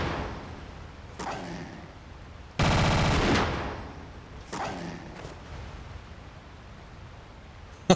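Rapid gunfire in the video game Tomb Raider Remastered: a short, dense burst of automatic shots stands out loudly among quieter scattered game sounds and footsteps.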